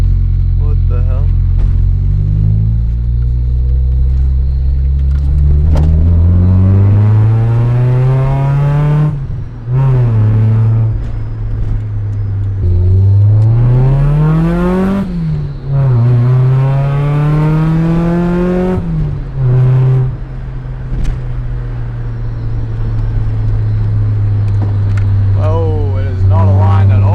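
A 4A-GE-swapped Toyota TE72 Liftback engine idles, then revs hard in several rising surges with a throaty roar and loud intake noise, settling back to a rumble between pushes.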